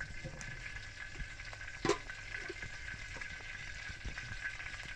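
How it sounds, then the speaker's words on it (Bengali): Large prawns frying in oil in a wok, a steady soft sizzle running throughout with occasional stirring clatter and one sharper scrape partway through, no talk. "আমি এখন একটু চিংড়ি মাছ ভাজি করে নেব, তেল তেল দিয়ে দিচ্ছি"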